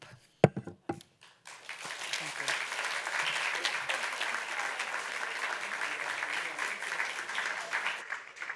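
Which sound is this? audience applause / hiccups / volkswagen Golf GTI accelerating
audience applause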